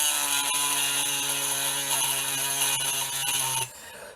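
A cheap handheld rotary tool drills pinprick holes into an eggshell, giving a loud, steady high-pitched whine that runs for several seconds before cutting off abruptly, with no talk.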